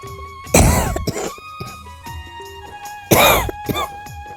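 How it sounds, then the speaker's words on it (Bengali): Two harsh, loud coughing fits close to the mic, each a burst of rough hacking, separated by a quieter pause. "এমন ঠান্ডা কাশি"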